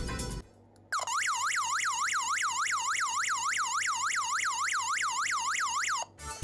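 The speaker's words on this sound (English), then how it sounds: "let's get to the part where you get to hear how the alarm sounds" A DIGOO smart home alarm's built-in electronic siren wails in rapid, regular up-and-down sweeps, holding steady for about five seconds before cutting off abruptly.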